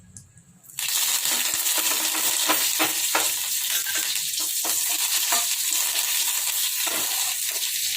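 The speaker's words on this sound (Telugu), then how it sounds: "ఇప్పుడు కలమాకు వేస్తున్నా." Curry leaves dropped into hot oil for tempering a Telangana-style cluster bean dish start with a sudden loud hiss, then keep up a dense sizzling crackle under scattered stirring clicks.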